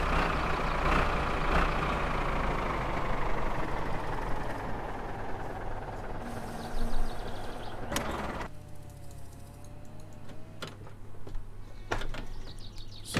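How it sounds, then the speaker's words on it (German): A tractor engine in the video game My Summer Car, a deep, steady rumble whose pitch slowly sinks, followed by a few sharp mechanical clanks and knocks as the motor idles on. "Sounds sind schon geil, oder? Vom Traktor."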